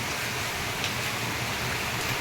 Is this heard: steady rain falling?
yes